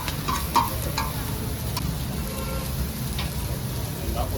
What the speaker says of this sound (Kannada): ಇದು ಕಬಾಬ್ ಫ್ರೈ